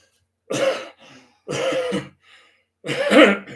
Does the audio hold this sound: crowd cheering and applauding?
no